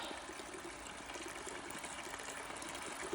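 Steady rushing of water pushed by a pump from a newly drilled borehole, a continuous gushing hiss with a faint mechanical hum underneath, unbroken throughout and nobody speaking.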